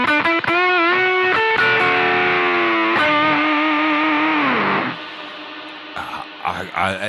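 An electric guitar runs through a BOSS GT-1000 processor with reverb added, bright sustained distorted notes and chords ringing out, with a reverb tail decaying after the playing stops, then a few more picked notes.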